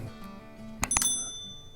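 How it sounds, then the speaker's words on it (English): A bright notification bell sound effect rings twice in quick succession, leaving a clear, sustained metallic tone that slowly fades over a low background hum. "hit that bell to be notified"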